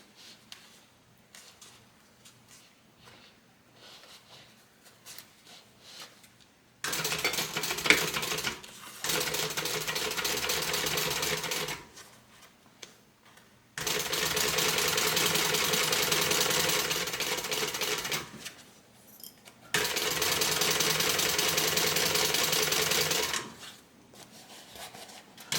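A sewing machine stitches a tote bag close to the cording, running in three long steady whirring bursts separated by quiet pauses, near and clear.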